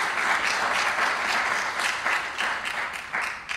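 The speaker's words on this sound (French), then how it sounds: "Je voudrais que vous acclamiez très fort Friends of Earth" Warm audience applause at a Forest Media Awards ceremony, greeting partner organisation Friends of Earth: dense, steady clapping from a large crowd that swells and fades slightly, with no talk over it.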